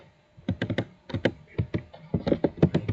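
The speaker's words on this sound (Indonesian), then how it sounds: "di sini kalian bisa ketikkan saja langsung IP" An IP address being typed on a computer keyboard during a network topology simulation: several quick bursts of close, crisp key taps separated by short pauses, with no talking.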